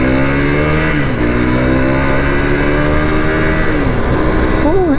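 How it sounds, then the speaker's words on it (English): Enduro motorcycle fitted with a sports bike engine revs up loudly and close, its pitch climbing and dropping at each gear change as it accelerates. "It's going through the gears very, very nicely indeed."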